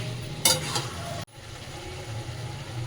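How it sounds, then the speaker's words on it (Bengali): A spatula stirs Mughlai-style chicken chaap frying in oil in a pan. A steady, close sizzle runs under scraping strokes against the pan, with one brief sharp break partway through. "আমার এখন কাজ হলো খুন্তি নাড়ানো, খালি মাংসকে কষিয়ে যাও।"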